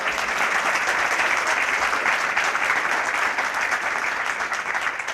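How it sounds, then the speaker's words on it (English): Sustained audience applause fills a university honorary doctorate award ceremony in Kyoto, a dense, steady clapping from a large crowd that holds at an even level throughout without pause. "Would you like to spontaneously applause,"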